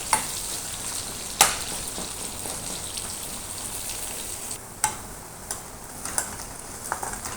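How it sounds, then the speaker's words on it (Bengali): Whole garlic and chopped onion fry in hot oil after dried chillies, a continuous close sizzle broken by a few sharp pops and crackles. "একটু হালকা ভেজে নিব ভালো করে"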